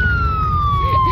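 A police car siren wails loud and close in a single slowly falling tone over road rumble, with a voice faintly underneath.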